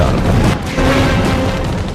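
Cannon and machine gun fire from the Indonesian warship RI Macan Kumbang, with 40 mm guns and 12.7 mm machine guns. It comes as loud, continuous rumbling booms and dense rattling bursts in a battle at sea.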